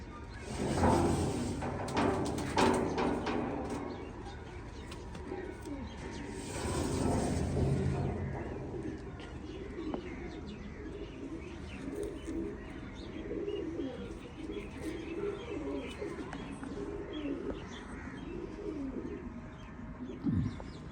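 A flock of pigeons, kept racing birds on a rooftop, cooing softly and continuously at close range, with occasional wing flutters and thumps in the background.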